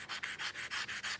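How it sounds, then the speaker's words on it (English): Wood hand-sanded with 320 grit sandpaper, six or so quick rhythmic back-and-forth strokes, a soft close scratchy rasp. "I can go to my next grit of sandpaper, the 320,"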